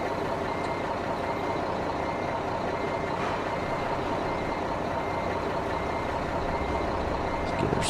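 A truck reversing into a parking spot in American Truck Simulator: steady low diesel engine drone with faint repeating reversing beeps, and a brief hiss of air brakes near the end.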